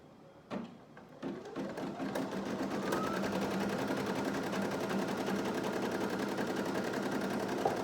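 A computerized embroidery machine starts a design with a few separate clicks and thumps, then settles into fast, steady stitching that runs continuously and evenly to the end, with no talking.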